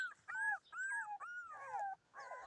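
A dog whimpers and whines close by in a string of high, wavering cries with brief pauses between them.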